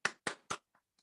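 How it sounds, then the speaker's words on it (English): Hands clapping during a spiritual lecture: three crisp, loud claps in a steady quick rhythm, then two much fainter taps trailing off in near silence. "So clap your hands"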